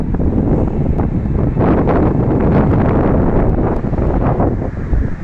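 Strong outdoor wind buffets the microphone in Canada, a loud continuous roaring rumble with gusty surges and no voices.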